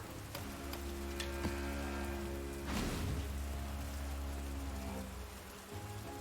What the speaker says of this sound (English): It's raining fire.